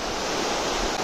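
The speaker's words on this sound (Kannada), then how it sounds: "ಅಲ್ಲಿರ್ತಕ್ಕಂಥ ನೀರು ಎಲ್ಲ ಹರಿದು ಸೊ ಹೀಗೆ ಬಂದು ಇಲ್ಲಿ ಜಲಪಾತ ಆಗ್ತದೆ" Water pours over Baba waterfall in Kumbwade, Maharashtra, a dense, steady roar of falling water, loud and close, with no voices.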